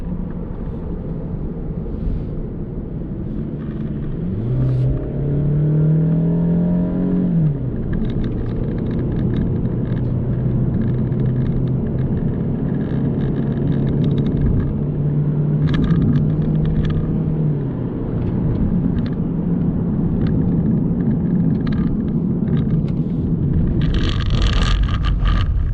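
A 2019 Toyota Camry engine revs hard during a test drive in Malaysia, a loud steady drone with a rising pitch sweep early on, then a sustained hum under road rumble and wind.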